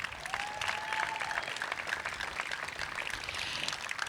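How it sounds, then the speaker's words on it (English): A crowd at an event honoring hospital trauma care team members breaks into sustained applause, a dense, even wash of many hands clapping that holds steady for about four seconds, with no talking over it. "Let's give them a round of applause."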